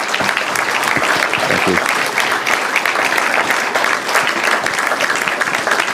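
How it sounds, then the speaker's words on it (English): A live audience breaks into sustained, dense applause after a talk on Gaza and Israel. The clapping fills the whole span at an even, loud level, and a voice briefly says thanks over it. "Give him a good applause"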